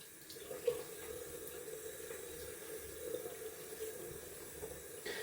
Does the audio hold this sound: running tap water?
yes